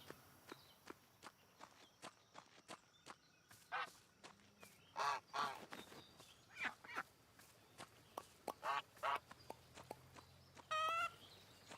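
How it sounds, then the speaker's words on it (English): Footsteps crunch rhythmically on a farm while a goose honks several times in short bursts, the honks moderately close and standing out above the steady walking, with no voices. "Leave me alone, duck. Goose, I mean."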